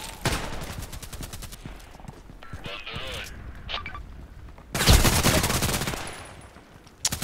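Rapid gunfire from the online shooter Contract Wars rings out in loud clustered bursts, with a dense volley at the start and another heavy barrage near the end, over quieter game ambience and a speaking voice.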